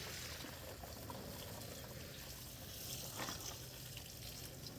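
Water sprays and splashes steadily onto pepper seedlings in a greenhouse from a hose without a wand, a continuous soft hiss of watering with no talking.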